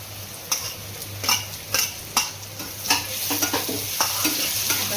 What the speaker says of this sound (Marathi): चांगला कांदा भाजतो पटकन। टोमॅटो टाकणार आहे